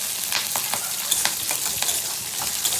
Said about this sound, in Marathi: परतून घ्यायचं मिरची,